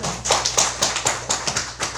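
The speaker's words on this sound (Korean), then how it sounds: "자, 박수 한번 주십시오." An audience at a Sunday Zen dharma service claps in a steady, rhythmic burst of applause, close and fairly loud, with no one talking over it.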